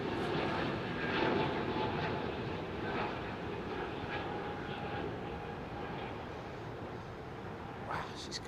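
Airliner taking off from runway 27R at London Heathrow, a heavy jet using the full runway length: a steady, loud broadband engine roar that holds constant throughout, with people talking over it.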